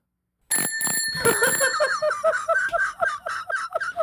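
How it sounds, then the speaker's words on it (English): A bicycle bell rings out in a quick burst of bright metallic dings from about half a second in, then keeps chiming in a lighter, rhythmic pattern of repeated strikes, close and clear with no talk over it. "You got the bell on the bike?"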